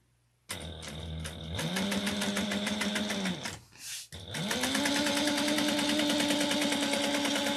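A sewing machine stitches through a bag with a close, steady rhythmic whir that starts abruptly, pauses briefly around the middle, then resumes at full speed.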